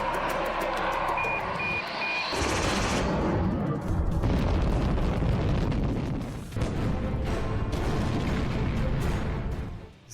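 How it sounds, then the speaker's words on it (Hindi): Bombing in a Ukrainian city brings a heavy, sustained roar of blasts and rumble filling the whole stretch, with a steady beeping heard at the start before the low booms take over. "ज़ेलेंस्की इन धमाकों से क्यों डरे हुए हैं"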